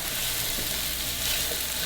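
Steady, close sizzling and crackling of onions frying in a hot pan, a constant hiss with no talking.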